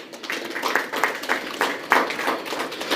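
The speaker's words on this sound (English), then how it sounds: "this honor deserves a round of applause" A round of applause at a tourism ministry press conference, with scattered, moderately faint claps running steadily for a few seconds with no talk.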